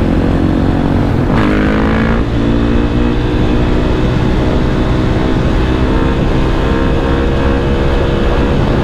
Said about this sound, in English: I'm on a supermoto.